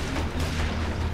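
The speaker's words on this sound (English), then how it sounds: "Gunshots." Dense, continuous gunfire from The Walking Dead video game, a steady roar of shots and booms with no gaps, loud and close.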